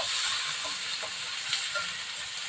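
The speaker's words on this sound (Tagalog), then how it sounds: "So, lagay na natin yung kamatis. So, ayan, gisa-gisa po natin." Tomatoes sizzle in a hot pan after ginger and garlic, a continuous bright hiss with a few soft stirring scrapes and clicks, close and steady throughout.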